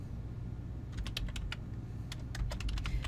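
Keys on a computer keyboard are tapped in a short irregular burst while a file name is entered, close and fairly quiet over a low background hum.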